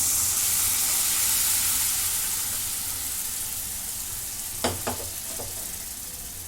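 A steady frying sizzle of dried green peas fills the pan, softening gradually, with a few brief clinks of stirring near the end.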